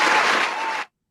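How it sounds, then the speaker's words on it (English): A studio crowd's burst of applause after a hockey podcast quip, dense steady clapping filling the space for nearly a second before cutting off abruptly into silence. "Big round of applause for that."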